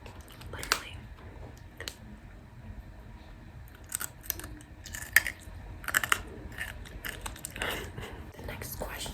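Crisp bites and crunching into candied grapes with a hard sugar shell, close-miked ASMR-style, several sharp cracks scattered across the span with soft chewing and faint breathy sounds between them.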